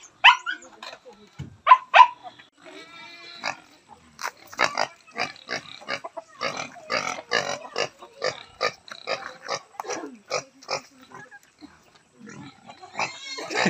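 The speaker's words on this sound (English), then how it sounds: "Papa gonna put the doggy there in that little house." A small dog barks repeatedly at a mountain farm, a long run of sharp yips and barks in a quick, irregular rhythm, close and fairly loud, with some squeals and occasional speech mixed in.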